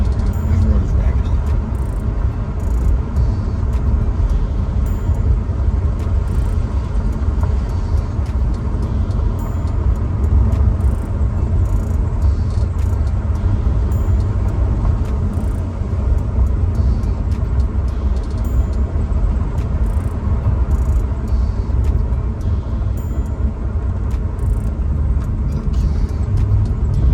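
Maserati GranTurismo rolls along a rough, broken road, a steady low engine and tyre rumble with thumps and rattles from the uneven surface, heard from inside the car under intermittent talk.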